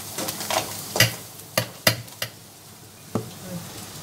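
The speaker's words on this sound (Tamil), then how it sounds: "இப்போ பார்த்தீங்கன்னா வெங்காயம் நல்லா வதங்கிக்கிட்டு இருக்கு" Onions sautéing in a pan for a mushroom gravy with roasted dried chilies and soaked cashews added, a soft crackling sizzle broken by several sharp spoon knocks and stirring clatters against the pan, close by.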